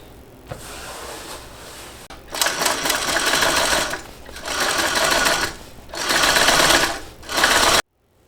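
A sewing machine topsews a narrow eighth-inch seam on a garment, running in several loud, steady bursts separated by brief pauses, close up and without talk.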